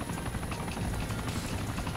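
A helicopter in the video game DayZ drones continuously with a dense, rumbling rotor wash at moderate loudness, steady for the whole short stretch with no voices over it.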